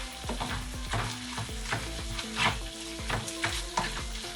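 Duck meat and vegetables sizzle steadily in a pan for duck lo mein while a utensil stirs and scrapes in quick, repeated strokes, close and moderately loud, with no talking.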